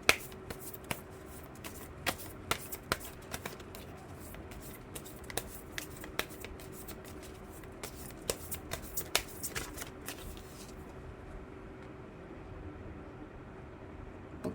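Tarot cards shuffled by hand, a run of crisp riffling clicks and snaps over a low steady hum, growing sparse and then stopping near the end.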